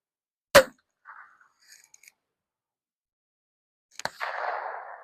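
A TAGinn Kick Charge launcher fires with a sharp, loud crack, followed by faint clicks and handling noises, then a second sharp report with a trailing hiss of gas.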